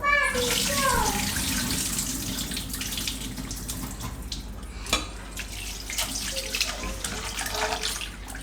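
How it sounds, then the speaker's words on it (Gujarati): Flattened rice (poha) rinsed in a large vessel of water by hand, a continuous splashing and sloshing with trickles and a sharp clink midway, close and fairly loud. "આ રીતે 2 થી 3 પાણીએ ધોઈ નાખવાના,"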